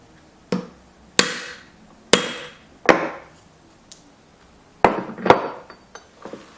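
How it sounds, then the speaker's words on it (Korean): A 28×5 decorative punch is struck through a leather belt near the buckle, giving about eight sharp, separate knocks at uneven intervals with quiet pauses between them. "버클에 장식이 들어가는 28×5 펀칭으로 구멍을 뚫어보도록 할게요"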